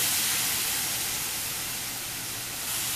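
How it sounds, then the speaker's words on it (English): Chicken pieces for teriyaki sear in a hot pan, giving a steady, loud, close sizzling hiss that holds evenly for about three seconds, with no voices over it. "You hear that sizzle? Means the pan is good heat."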